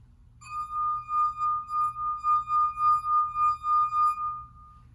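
A wet fingertip circles the rim of a drinking glass held by its base, drawing out a steady, pure ringing pitch that swells and fades in a regular pulsing rhythm over about four seconds, alone and fairly quiet.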